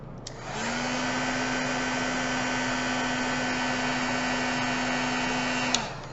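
A heat gun blowing hot air switches on and runs as a steady, even whirring hiss with a constant motor hum for several seconds, then shuts off, close up with no talking.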